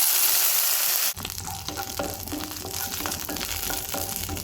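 Raisins dropped into hot ghee in a pan while making carrot sabudana kheer: a steady, close bubbling sizzle that kicks in abruptly after a softer hiss and continues evenly throughout.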